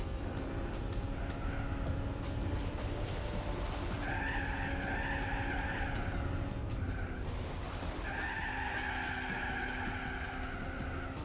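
Tyres screech in repeated long skids during a Gran Turismo 4 race between a stock Honda S2000 and a 500 bhp Mercedes as the car snaps into oversteer. Two loud, sustained squeals ride over a steady engine drone.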